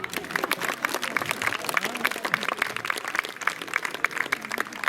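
Audience applause at the Miss Blumare and Miss Cornedo Vicentino 2016 beauty pageant as the contestants come out in evening gowns: brisk, crackling clapping from many hands that holds steady for several seconds with no voices.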